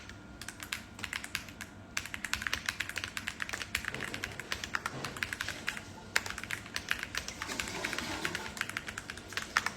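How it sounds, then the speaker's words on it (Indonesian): Steady, rapid typing on a Yunzi computer keyboard, dense clicky keystrokes close up and fairly quiet, continuing without pause and with no talk. "suka banget dengan suara ketikan keyboard"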